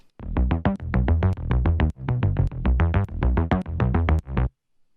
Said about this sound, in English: the main Poly D bass, that sounds like this.